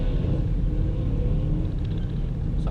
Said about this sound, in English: Someone's off in their speedy car.